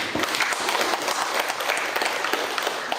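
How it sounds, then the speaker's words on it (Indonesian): Audience applause for the district prosecutor at a legal information session, a steady wash of many hands clapping together, dense and sustained throughout with no voices over it. "sekali lagi kita beri aplaus sampai Pak Kejari"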